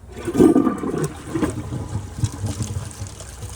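A 2017 Glacier Bay high-efficiency toilet flushes a bowl loaded with dirt, a loud opening rush of water easing into a gurgling, trickling drain over a few seconds, heard close with no talking.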